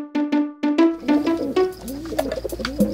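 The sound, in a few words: pigeon cooing in an animation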